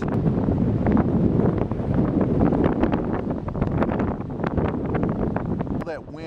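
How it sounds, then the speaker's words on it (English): Strong storm wind gusts across the white sand of Coquina Beach at Bradenton Beach, roaring loud and steady into the microphone with blustery buffeting throughout. "Feel that wind blow the sand across the white sands of Coquina Beach."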